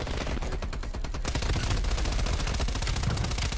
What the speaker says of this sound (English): VIP is taking fire